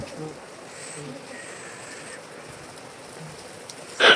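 Soft, steady rain patters throughout at a low level, with a faint voice or two and a sharp brief clatter right at the end.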